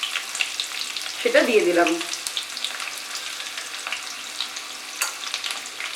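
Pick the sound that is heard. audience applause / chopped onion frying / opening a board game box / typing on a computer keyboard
chopped onion frying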